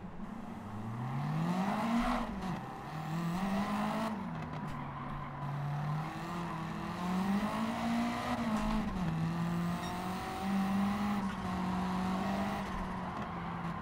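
Super GT race cars in Gran Turismo 7 roar continuously and loudly as a close pack, engine notes rising and falling through gear changes with a brief tire squeal, no talking.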